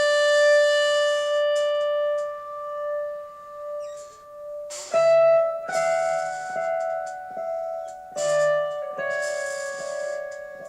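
Electric guitar playing single-note swells through a delay, each note fading in and ringing out with echoing repeats, clean and close with gaps of near silence between phrases.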